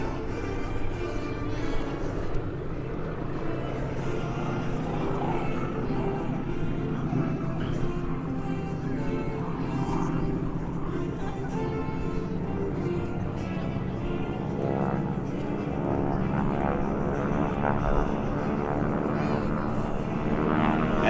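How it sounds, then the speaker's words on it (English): Skytypers airshow formation of propeller planes rolling in for a diving high-angle attack run at Quonset, Rhode Island, a continuous loud droning engine roar that swells and shifts in pitch throughout, with no gaps. "Gecko Flight rolling in for a high angle attack straight"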